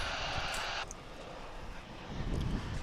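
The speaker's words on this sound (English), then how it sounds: "Arriving from Monterrey in Mexico, it's American Airlines Flight 2286. This is an Airbus A319." An American Airlines Airbus A319 arriving at DFW airport rumbles with a broad engine roar that briefly carries a high whine before easing, then swells again toward the end, moderately distant with no talking.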